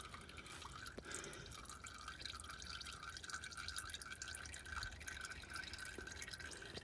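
Transfer case fluid dripping into a bucket, with sparse faint drips and a thin liquid trickle over low background noise, quiet and close with no talking.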